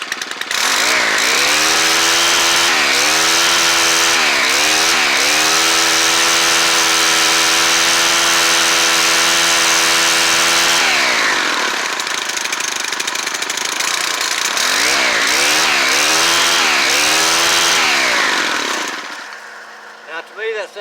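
A Stihl FS90R string trimmer's small two-stroke engine, its choke not releasing on its own, is cranked and then runs loud and close with a steady buzzing drone. The pitch rises and falls as the throttle is revved, then the engine cuts out near the end.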